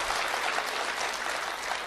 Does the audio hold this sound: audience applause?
yes